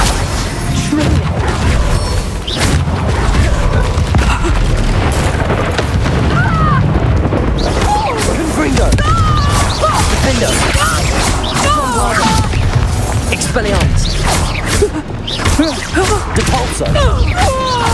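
Spell explosions from Confringo and Bombarda in Hogwarts Legacy, set in a haunted Hogsmeade shop: dense, continuous booms and crashes layered with whooshes and other effects, loud and unbroken, with voices mixed in.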